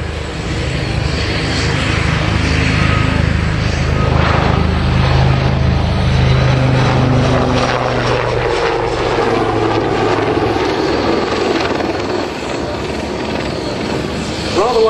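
A Westland Lynx AH7 helicopter roars loudly and steadily nearby during a flying display at Abingdon, a thick rotor and engine drone that shifts slightly in pitch as it moves, with faint voices beneath.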